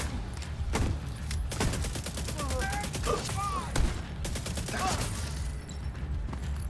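Gunfire in The Division 2, with rapid submachine gun bursts and scattered shots and thuds in a busy firefight, while voices shout under the shooting.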